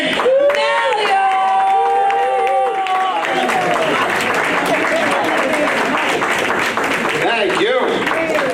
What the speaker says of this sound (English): Everybody, please start clapping for Stephen Mallion!